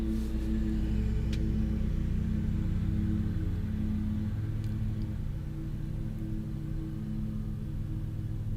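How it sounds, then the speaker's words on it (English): A lawn mower drones steadily in the background of a Beverly Hills neighborhood, a constant low engine hum that holds an even level throughout without pause. "the lawn mowing. It's like an endless ballet of lawn maintenance occurring in the background"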